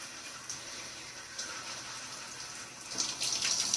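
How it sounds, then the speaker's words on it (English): A handheld sink sprayer runs water over a hand-tied cap wig, producing a steady hiss of spray that grows louder and splashier toward the end. "I'm going to take this sprayer and I'm just going to rinse her"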